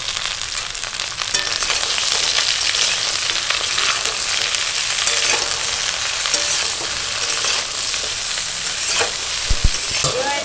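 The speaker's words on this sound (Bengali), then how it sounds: "এটাকে ঢাকা দিয়ে দিয়ে ভাজা করব এরকম ঢাকা দিয়ে দিয়ে আমি এটাকে ভাজা করেছি" Okra and potato pieces fry together in a pan with a loud, constant sizzle for the whole stretch, broken by occasional stirring taps and a few clatters near the end; no one speaks.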